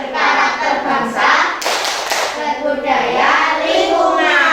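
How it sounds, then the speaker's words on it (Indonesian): Fourth-grade children in a classroom clap their hands together in a clap routine, a dense burst of loud clapping mixed with children's chanting voices and talk. "Oke, tepuk tangan."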